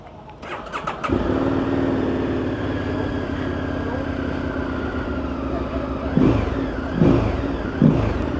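A Morbidelli T1002V V-twin motorcycle engine cranks, catches and settles into a steady, close idle, then gives three short blips of revving toward the end.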